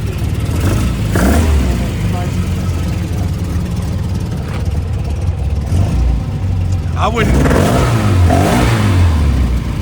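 A 1961 Austin-Healey Bugeye Sprite's small four-cylinder engine revs up in several blips and settles back to idle, close and loud, with people talking around it at a car show.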